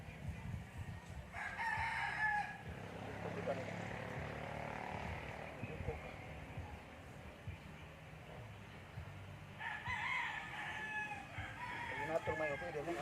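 Rooster crowing with chickens clucking around a chicken coop: two drawn-out crows, one near the start and one near the end, over soft clucking and low background hum, with people talking quietly.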